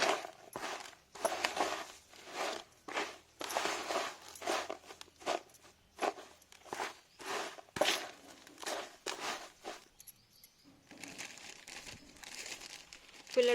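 Potting mix for repotting philodendrons being mixed by hand with about a quarter part sand, a run of close crunchy, crinkling rustles in irregular bursts, with a quieter stretch near the end before the scraping picks up again.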